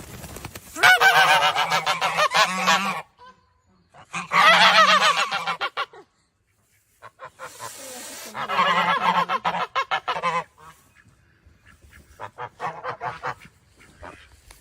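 Several rescued geese at a farm animal sanctuary honk loudly and nearby in repeated raucous bursts, with short pauses between the calls and a quieter stretch toward the end.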